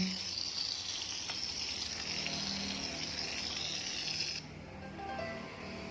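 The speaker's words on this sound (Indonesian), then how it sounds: "Ini suara hujan" Light rain falling, heard from inside a car: a steady, dense hiss that continues without a break, then drops slightly in level near the end.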